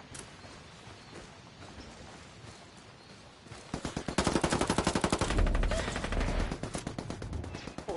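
Sustained automatic gunfire in a tactical shooter game, quiet at first and then turning into a loud, rapid stream of machine-gun shots that runs to the end with no speech.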